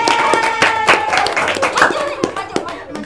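Supporters clapping during an online quiz game between Institut Palcomtech and a vocational high school, scattered sharp claps and hand slaps mixed with voices talking and cheering over them, close and lively.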